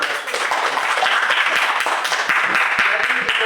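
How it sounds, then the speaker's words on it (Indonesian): Classroom applause at a practice teaching session on Islamic religious education, a steady wash of clapping from a group of students lasting throughout, fairly loud, with scattered sharper claps standing out. "Silakan tepuk tangan dulu"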